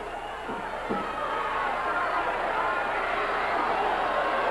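Roar of a large arena crowd at a Houston/Mid-South pro wrestling show, a dense wash of shouting and noise that swells slightly, with a commentator's voice partly over it.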